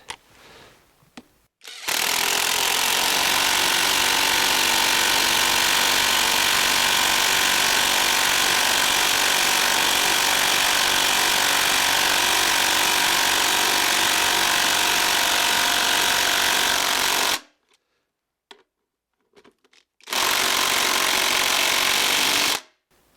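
A Litheli U20 cordless 1/2 inch impact wrench drives a thick bolt with a 9/16 inch head, hammering loudly and continuously for about fifteen seconds, stopping, then hammering again in a short final burst.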